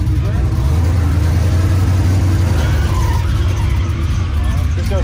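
A stock car Chevelle engine runs close and loud with a steady low rumble and a slight rise in revs, the drone constant throughout with no break.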